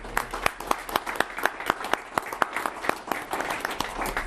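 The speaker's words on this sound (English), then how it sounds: "Let's have a final round of applause for you all and go on to the next." A small group applauds at a county commission meeting, the sparse, distinct individual claps audible over a steady patter that grows a little fuller toward the end.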